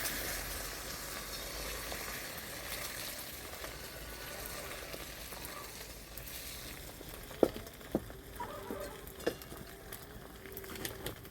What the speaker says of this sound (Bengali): আমি যে ডিমটাকে ফেটিয়ে রেখেছিলাম ওটা আমি দিয়ে দিচ্ছি কড়াইতে।